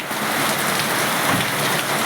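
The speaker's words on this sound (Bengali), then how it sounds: "দেখো বৃষ্টিটা, রোজ বৃষ্টি হচ্ছেই একবার করে" Heavy rain pouring down in a dense, continuous hiss, loud and steady.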